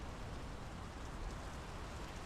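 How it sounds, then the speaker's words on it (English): Steady heavy rain in the horror game Draugen, a dense continuous hiss of falling water filling the scene evenly, no voices or other sounds over it. "The rain's picking up."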